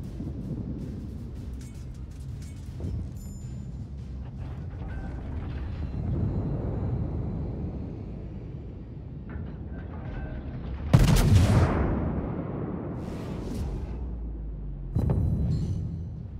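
Naval gunfire in World of Warships, a battleship battle against a destroyer, with rumbling background and a loud heavy salvo blast followed later by another boom.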